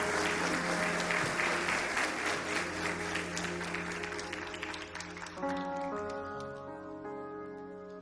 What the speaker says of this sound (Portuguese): Vocês podem recebê-los com aplausos, por favor?